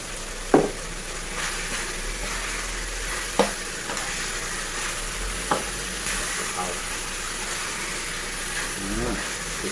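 Chicken stir-fried with holy basil in a hot pan, a steady sizzling hiss throughout, punctuated by a few sharp clanks of a spatula against the pan.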